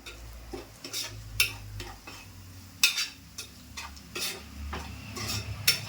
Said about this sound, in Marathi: आता हे व्यवस्थित परतून घेते.